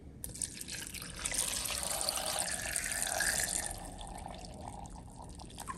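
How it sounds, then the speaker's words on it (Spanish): Milk poured into a pot while cooking, a steady close liquid splash that swells in the middle and then tapers off. "Le voy a agregar leche."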